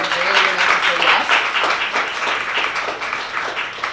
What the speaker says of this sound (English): let's give them a round of applause for being vulnerable and brave enough to say yes